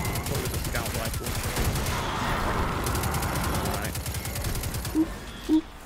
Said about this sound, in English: That's a scout rifle.